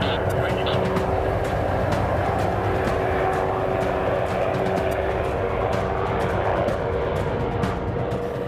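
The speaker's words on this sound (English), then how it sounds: "This is the Sea Guardian, a US-built advanced drone." A Sea Guardian drone, a US-built derivative of the Predator built for long-endurance reconnaissance, flies with a steady, loud engine drone and airflow roar that holds unbroken and close, with no voices.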